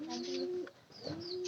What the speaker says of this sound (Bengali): এই কবুতরটা